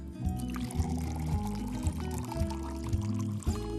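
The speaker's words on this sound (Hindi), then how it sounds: "बोल में पानी डालें" Water pours into a kitchen bowl in an uneven, gurgling stream with repeated splashy surges, close and continuous throughout, with no talking.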